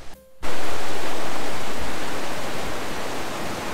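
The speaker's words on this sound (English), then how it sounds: "I'm just enjoying the white noise that comes with water." Loud, steady rush of running water, like a tap or stream pouring continuously after a brief quiet start.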